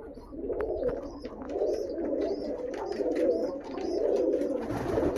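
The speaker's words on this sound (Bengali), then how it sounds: "সেই লালি ফ্যাঁসা ব্লাড লাইনের পায়রা" A Lali Phansa bloodline pigeon coos steadily and close by in low, continuous rolling bursts that last throughout, with a few faint higher chirps from other birds in the background.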